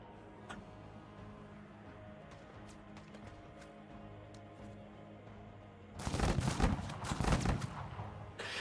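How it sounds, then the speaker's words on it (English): Bursts of video game gunfire from a battle near grain silos with a rocket truck, loud and dense in the last few seconds after a quieter stretch of faint ticking and background hum. "They're shooting at Cody and getting nothing done."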